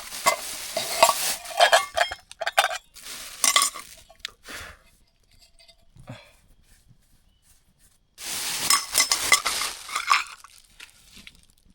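A cooking pot is handled at a forest campsite before boiling noodles, giving bursts of scraping, rubbing and metallic clatter close by, separated by quiet gaps.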